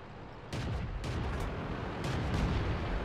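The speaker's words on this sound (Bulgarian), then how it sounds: "Артилерията, както виждате, се опитва да ме оцели, но не успя." Artillery shells bursting in World of Tanks, a series of loud, broad thumping blasts at roughly half-second to one-second intervals over a constant rumbling battle background, with no talk.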